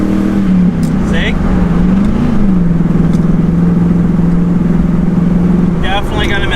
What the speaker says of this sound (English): Definitely got a misfire.